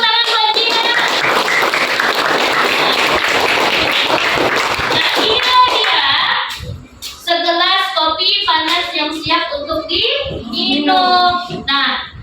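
A group of children applauds for a girl named Jihan during a classroom lesson, a dense burst of clapping lasting about six seconds before giving way to cheerful voices.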